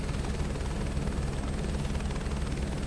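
A helicopter flies in Microsoft Flight Simulator 2024, a loud, steady rotor and engine roar that fills the whole stretch with constant broadband noise and no breaks.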